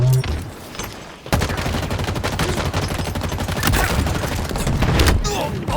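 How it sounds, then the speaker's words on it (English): Halo Infinite multiplayer gunfire: a long, dense stream of rapid automatic shots, loud and close, after a brief quieter lead-in, with scattered impacts and no speech over it. "Somebody's shooting at me. You are shooting at me."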